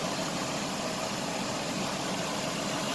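A 2005 Mazda Tribute, rebuilt after a wreck, idles steadily with a smooth, quiet, even hum and no variation or talking over it.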